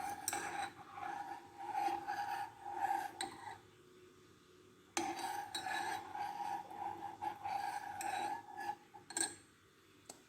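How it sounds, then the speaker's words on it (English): A spoon clinks and scrapes inside a cup while stirring tea with lemon, a soft, continuous rattle with brief pauses, close and fairly quiet. "keep stirring."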